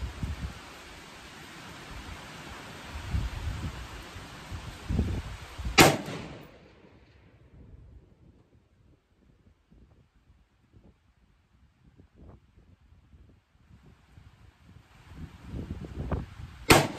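Strong wind buffeting a microphone at an outdoor rifle range, rough low rumbling gusts rising and falling, with loud sharp cracks near the start and end and a quieter lull in between.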